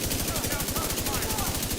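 Rapid sustained LMG fire in The Division 2, a steady rattling burst of shots running the whole time at close range, with faint game sounds beneath.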